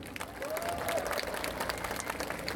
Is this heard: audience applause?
yes